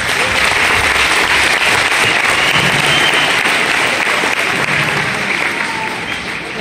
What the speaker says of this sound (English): let's give all of our elementary students a big round of applause